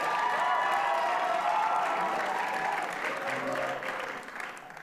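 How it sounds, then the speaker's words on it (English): A crowd applauds the final band at a Battle of the Bands event. The clapping is sustained and moderately loud with a scattering of cheers, and it thins slightly toward the end. "Let's give a round of applause to our final performance"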